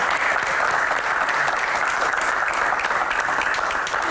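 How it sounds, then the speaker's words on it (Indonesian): Audience applause for a guest at the close of a Q&A talk show, loud, dense and steady clapping that fills the whole stretch without a break. "tepuk tangan untuk Bapak"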